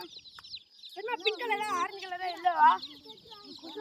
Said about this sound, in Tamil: இதெல்லாம் இது பிராய்லரா இல்ல என்னது குஞ்சு இதெல்லாம்?